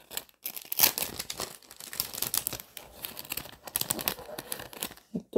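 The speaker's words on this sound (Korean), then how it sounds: "이 비닐을 여시면 여기 안에" A plastic bag from a herbarium ballpoint pen craft kit is opened by hand, giving close, loud crinkling and tearing rustles in uneven bursts over about five seconds.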